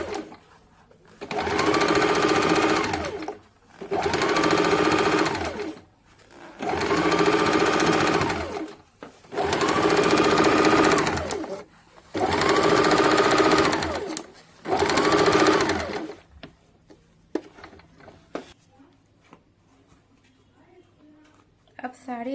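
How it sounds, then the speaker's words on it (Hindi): A sewing machine stitches around a blouse neckline in five steady, loud runs of about two seconds each, separated by short pauses, then falls quiet amid faint handling noises. "इस प्रकार से पूरे गोलाई में सिलाई चला लेंगे।"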